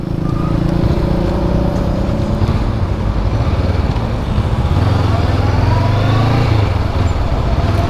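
Honda CB500X motorcycle being ridden through Kalithea streets, a steady engine drone with mild rises and falls in pitch, loud and continuous throughout with constant road and wind noise.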